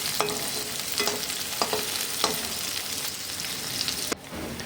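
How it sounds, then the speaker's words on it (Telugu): Baby corn for Manchurian frying in a pan, with steady oil sizzle and a few sharp stirring scrapes at regular intervals, close and alone without talk. "ఇవన్నీ బాగా ఫ్రై చేసుకోవాలి."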